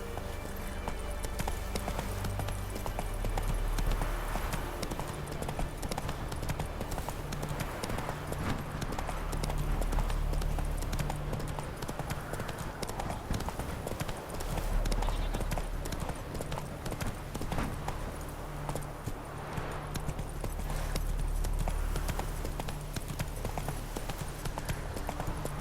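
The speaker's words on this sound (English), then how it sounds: "Whoa there, Roach" Horse hooves gallop in The Witcher 3 video game, a fast continuous clip-clop that drives on steadily over an ambient game soundscape, near and moderately loud.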